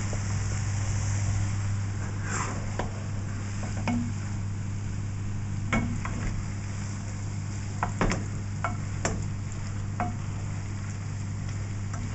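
Lamb curry is stirred in a pan, with a spoon scraping and tapping irregularly against the metal over a steady background hum and low sizzle.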